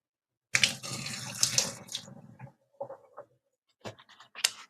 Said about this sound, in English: we are going to just pour in a little bit of water